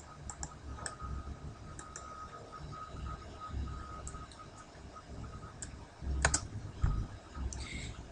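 Computer keyboard typing while pasting a URL into a web browser: steady soft key taps and clicks at close range in a quiet room, with a slightly louder cluster of clicks near the end.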